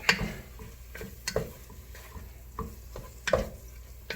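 Stirring in a pan of dirty rice, a spoon scraping through the mixture in repeated strokes with sharp clinks against the pan over a soft sizzle, fairly close.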